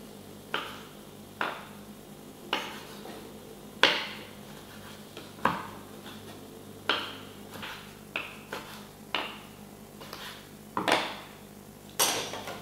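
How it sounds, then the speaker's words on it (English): Knife chopping cherry tomatoes into very small cubes on a board, making about a dozen crisp, separate taps at an uneven, unhurried pace, close and fairly quiet, with no talking. "Cut cherry tomatoes into a very small cubes."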